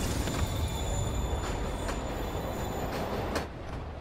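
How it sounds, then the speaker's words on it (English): A train in a Spider-Man video game rolls past with a steady heavy rumble, rhythmic wheel thumps and a high, thin squeal over it, easing slightly toward the end. "Train moving. Lee's getting away."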